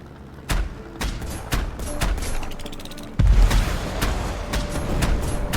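Torpedo explosions in the video game Black Skylands, heard as a loud, dense barrage of booming blasts and crackling hits that repeat in quick succession over a continuous rumbling game background.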